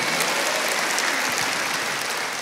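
A church congregation claps steadily and energetically for a couple of seconds during a sermon, a dense wash of applause with no voices over it.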